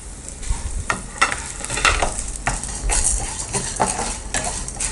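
Garlic and black pepper sautéing in hot oil in a pan, a steady close sizzle with repeated scraping and stirring clinks of a spoon against the pan, no talking.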